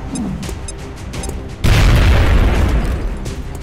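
A grenade blast in the video game XCOM Enemy Unknown: quiet game ambience, then a sudden loud boom that rumbles on and slowly fades over the rest of the clip.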